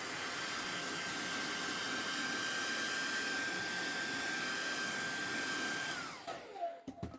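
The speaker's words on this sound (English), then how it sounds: "if I come with a hairdryer" A steady, loud hair dryer blows continuously with a constant whine, heating interior vinyl wrap, then shuts off near the end, leaving brief clicks and handling noises.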